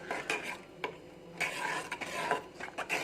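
Spoon stirring a curd mixture in a pot while making Punjabi kadhi, a soft scraping and swishing repeated in short strokes, fairly quiet with occasional light clinks of utensil against the pan.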